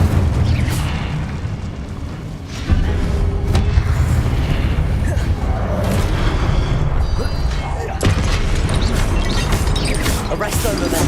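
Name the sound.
Incendio fire spell in Hogwarts Legacy video game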